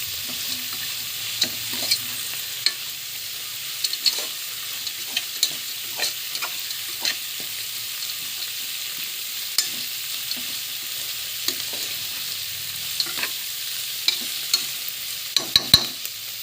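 A spoon stirs cabbage rice with garlic chutney in a frying pan over medium heat, giving soft repeated scraping taps over a steady low sizzle, close and alone.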